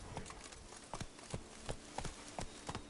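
In The Witcher 3, Roach the horse gallops steadily, a close, regular beat of hoof thuds repeating roughly every third of a second over three seconds, with no talk.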